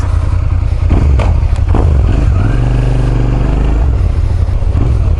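A motorcycle out on the road on a sunny day, its engine droning loudly and steadily up close with wind buffeting and a few thumps and clatters, no voices.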